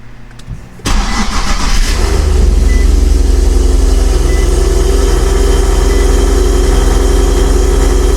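A Nissan G37 sedan's engine with a new exhaust cranks and catches after sitting a while, then settles into a loud, steady, deep idle with a throaty exhaust rumble that continues without a break.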